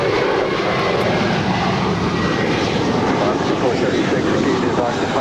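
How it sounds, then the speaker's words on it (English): An eight-year-old American Airlines Airbus A321 jet at Los Angeles International Airport gives a loud, steady roar that holds for the whole stretch, with faint voices in the background. "that is American Flight 4 heading back to where I just came from, JFK. It is an 8-year-old A321"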